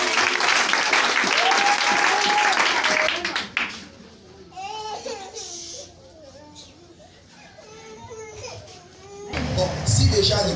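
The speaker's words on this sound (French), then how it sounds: "acclamons pour le Seigneur" A church congregation claps and cheers loudly for a few seconds, then the applause fades into children's voices and chatter before a renewed burst of clapping closes.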